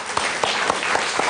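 A studio audience on a Turkish TV show claps in brief, even applause, a quick burst of steady hand claps with no voices over it.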